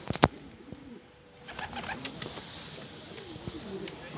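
Pigeons cooing softly in a loft, low repeated throaty coos under faint background noise after a brief sharp knock at the start, close by and gentle.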